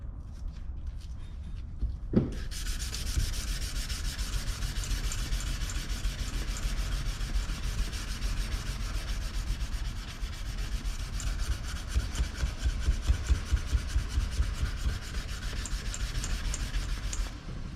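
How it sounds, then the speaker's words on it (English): A San Mai knife blade clamped down is wet sanded by hand with Rhino Wet red line sandpaper, a steady close rhythmic rasping scrub that continues without pause after a brief knock at the start. "And I'm using Rhino Wet sandpaper, the red line."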